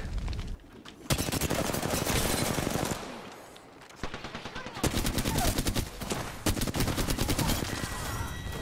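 G7 Scout rifle fired rapidly in Apex Legends, a dense run of sharp, loud gunshots with busy battle noise behind, briefly dropping out then resuming in quick repeated bursts.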